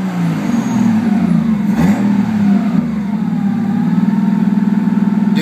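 Datsun Z fitted with an RB30 engine revving after warming up: a loud, steady engine drone with pitch swells as the throttle opens, and a pulsing idle-like rhythm toward the end.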